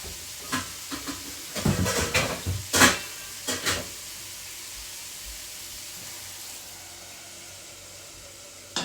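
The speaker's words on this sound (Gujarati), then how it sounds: "ઢાંકણું ઢાંકી દઈએ એટલે ચડી જાય રોસ્ટ થઈ જાય બરાબર" A lid set onto a cooking pot over gentle sizzling, a few clanks and metallic knocks in quick succession followed by a quieter steady hiss.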